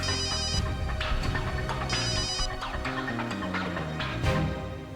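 A phone rings with repeating electronic tones, a patterned ringtone playing over a busy, murmuring background.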